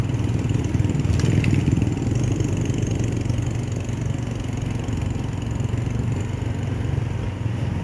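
A motorcycle with a sidecar runs steadily, its mid-pitched engine droning close and continuous with a slight rise early on, no talk over it.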